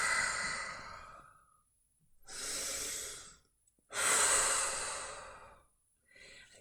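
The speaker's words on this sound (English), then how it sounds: "So you breathe in, and as you breathe out, down and out like a J, the shape of a J." A woman in labour practises J breathing, taking slow, deep breaths in and out, with three long, soft breath cycles separated by pauses, close and quiet with no talking.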